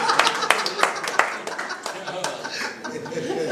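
Audience applause at a Hindi kavi sammelan poetry recital, brisk scattered clapping mixed with chuckles and laughter, lively and close, tapering slightly toward the end.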